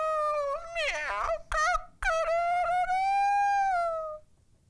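A person imitates a rooster with a loud, drawn-out crow, voiced with warbling bends and a long held tone that fades out, heard close and alone.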